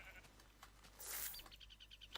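Sheep in the video game Minecraft bleat faintly, a short nasal cry amid soft game ambience and a brief burst of noise, heard alone with no talking.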